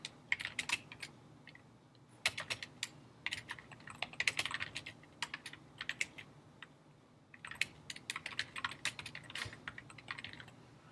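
Fast typing on a computer keyboard to enter a name, with rapid, crisp clicking keystrokes close to the microphone in two bursts separated by a brief pause.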